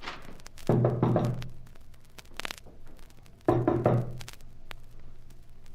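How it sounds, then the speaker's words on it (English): Two bursts of hard knocking on a wooden door, each a quick run of heavy thuds, separated by a quiet pause with faint shuffling in between. "Go ahead and knock."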